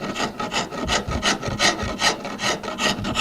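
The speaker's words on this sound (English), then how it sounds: "I'm going to go after this with the rasp here real quick and see if I need to add more." Rasp filing dried epoxy on a wooden table leg, a steady rhythm of about a dozen close, loud rough strokes with no talking.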